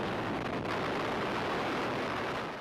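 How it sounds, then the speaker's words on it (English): A huge archival explosion demolishing the Helgoland fortifications, heard as a dense, sustained roaring blast of broadband noise that stays loud throughout, like a distant rolling detonation with no voices. "That sound was the third biggest explosion of the Second World War."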